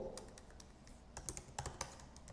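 Keys clicking on a computer keyboard while a Naver blog post is written, a short quiet burst of a few scattered keystrokes at close range, with no talking.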